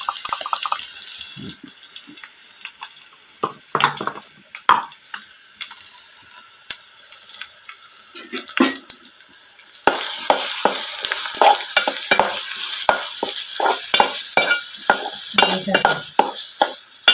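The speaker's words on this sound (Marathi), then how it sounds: "कांदा भाजून दिलो त्याच्यात वाटाप टाकलोय" Ground masala paste fries with roasted onion over a wood-fired clay stove, crackling and sizzling close by as a spoon scrapes and stirs in short bursts, growing busier and louder midway.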